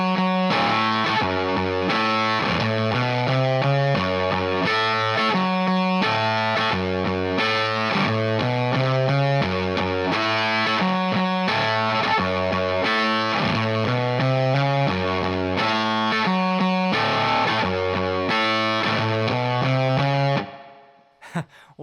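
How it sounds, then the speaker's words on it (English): Electric guitar through a fuzz pedal plays a riff, loud and heavily distorted, repeating steadily for about twenty seconds before cutting off. "let me turn that fuzz pedal back on, and you can hear what it sounds like all together"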